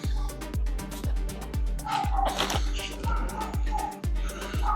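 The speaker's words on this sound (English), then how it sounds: "Now you piss the dogs off, Kevin." Dogs bark over and over close by, sharp yaps and woofs landing on a steady thumping rhythm, with a louder burst of barking near the middle.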